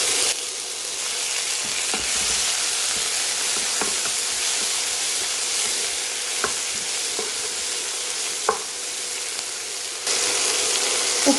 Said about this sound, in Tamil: வெங்காயம் பச்சை வாடை போகிற அளவுக்கு வதக்கினா போதும், ரொம்ப மொறுமொறுன்னு வதக்கக்கூடாது